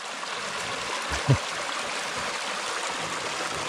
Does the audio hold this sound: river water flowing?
yes